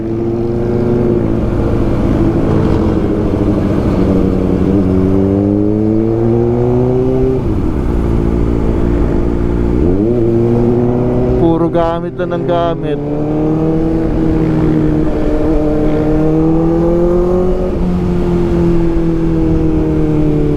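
A CF Moto 675SR-R motorcycle engine idles and revs repeatedly up and down, loud and close, with a rattling mechanical whine from an uncleaned engine; someone speaks briefly over it.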